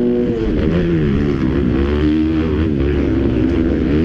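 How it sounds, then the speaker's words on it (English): A 250cc motocross bike at a Thunder Valley race holds a loud, high-RPM rev close by, its engine pitch rising and falling steadily with no talking over it. "Just listen to the RPM. They rev these 250s."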